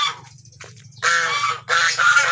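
Rhode Island chickens on an outdoor poultry range give loud, close, harsh honking calls in two long bursts over a low steady hum.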